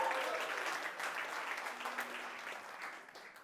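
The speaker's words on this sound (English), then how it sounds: "shall we give the organization here one more round of applause" An audience applauds the organisers at the ADNIGHT 2022 event at iO Campus Amsterdam. The clapping is soft and distant, with a faint cheer, and it slowly fades out as a low hum holds beneath.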